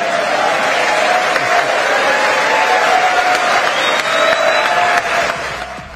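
Sustained applause fills a joint session of the US Congress during Indian Prime Minister Narendra Modi's address, a steady dense roar of many hands clapping that holds loud for several seconds before tapering slightly at the end.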